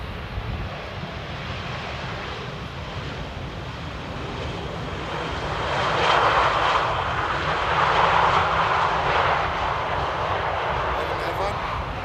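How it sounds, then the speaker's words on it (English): Airliner from Dublin rolling out on runway 18 at Amsterdam Airport, a steady broad jet roar heard from a distance that swells to a louder peak midway and eases off, with talk over it throughout. "Rolling out on 18 right here at Amsterdam Airport."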